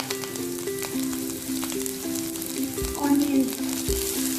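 Curry leaves and coriander fry in leftover oil, a close crackling sizzle with sharp spitting pops and brief stirring scrapes, steady and fairly loud with no voices.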